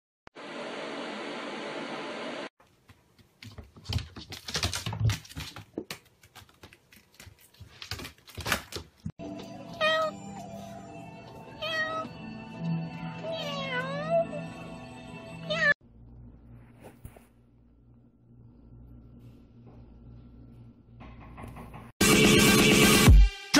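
A cat meows in short, separate calls mixed with indoor clatter, tapping and a humming appliance, loud and close in a home, with quiet stretches between bursts.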